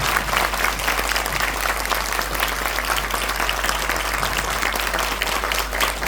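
An audience breaks into vigorous applause, an even, loud roar of many hands clapping that carries on without pause for around six seconds.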